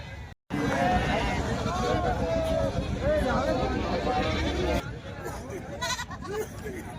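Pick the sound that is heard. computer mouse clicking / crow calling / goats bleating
goats bleating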